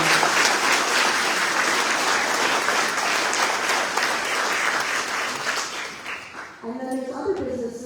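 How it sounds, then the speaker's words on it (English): An audience at a teacher awards ceremony gives a loud, sustained round of applause for the event's sponsors. The clapping fades out near the end, and a voice begins speaking. "so we give them a big round of applause"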